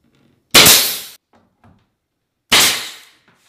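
A pneumatic nail gun drives nails into door casing during a door installation: two sharp, loud bursts about two seconds apart, each with a short hissing decay, close by and with no talking.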